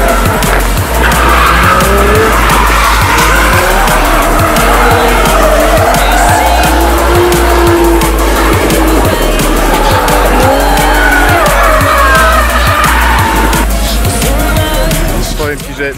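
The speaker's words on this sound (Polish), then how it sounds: "Tam słychać drift." Cars drift at a Gatebil Mantorp motorsport event, loud engines roaring and tires squealing in long wavering screeches, with a continuous dense wall of sound heard from nearby among a crowd.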